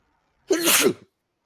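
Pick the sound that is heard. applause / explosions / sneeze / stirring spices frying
sneeze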